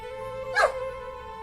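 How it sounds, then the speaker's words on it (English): A single short yip-like bark from a dog-like creature in Gibbous: A Cthulhu Adventure, bright and close, standing out against a steady musical hum. "My kitty can talk and your kitty can bark."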